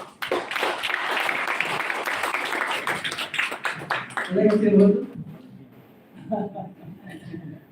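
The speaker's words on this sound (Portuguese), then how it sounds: "E também aplausos para o senhor ministro." Applause for a government minister at a televised press forum on infrastructure development: a dense burst of clapping for about four seconds, fading as talking takes over.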